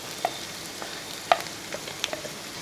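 Chopped ginger is stirred into frying beef in a pan: a faint, steady sizzle with a few light clicks and scrapes of a spoon, one knock more pronounced, heard close and without talk.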